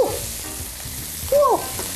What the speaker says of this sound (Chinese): 无油煎鱼啊